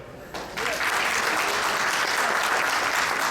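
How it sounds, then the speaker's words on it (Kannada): Audience at a community cultural function, a Kannada association event, breaks into loud sustained applause that swells after a brief start and continues evenly without talk. "ನಿಮ್ಮೆಲ್ಲರಿಗೂ ಸುಸ್ವಾಗತ ಮತ್ತು ಒಂದು ಜೋರ ಚಪ್ಪಾಳೆ"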